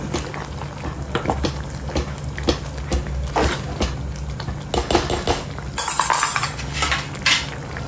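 Potatoes stirred into pav bhaji in a pan with a metal spoon, steady scraping and clinking against the pan with soft bubbling underneath, close and continuous without talk.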